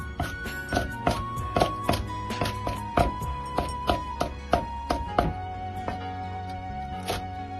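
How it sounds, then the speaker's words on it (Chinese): A knife chops chili peppers on a cutting board in a steady series of crisp taps and thunks, about a dozen close strokes with short pauses, over a faint background hum. "再把辣椒从中间破开，然后再改刀切碎"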